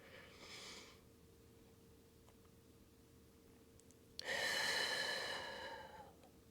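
During a standing Pilates lower-body and core exercise, a short soft breath is heard near the start. After a pause comes a loud, deep, drawn-out breath lasting about two seconds, close to the mic.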